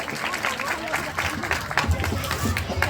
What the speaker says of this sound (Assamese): এটা ডাঙৰ হাত চাপৰি বিচাৰি, এটা ডাঙৰ হাত চাপৰি দিয়ক